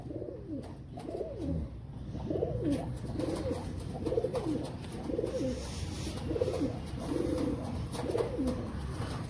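Pigeons coo in a repeated rolling rhythm, several soft throaty calls in steady succession, close by against a faint background hum.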